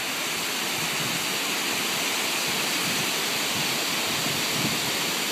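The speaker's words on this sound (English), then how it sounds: "A little waterfall action." Spring snowmelt waterfall beside a Rocky Mountains road near Ogden, Utah, giving a steady, dense roar of falling water that holds constant and fairly loud throughout, with no voices over it.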